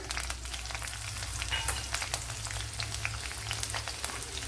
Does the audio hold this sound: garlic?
yes